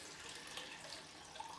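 A bathroom tap runs steadily as a water bottle fills, a faint continuous hiss of flowing water with no talking.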